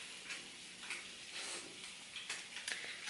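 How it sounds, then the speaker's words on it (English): Green beans and tilapia cooking in a home kitchen pan, giving a soft, steady sizzle with light clinks and scrapes of utensils scattered through it, quiet and without talk. "I'm now making meal number 2, which is just green beans and tilapia."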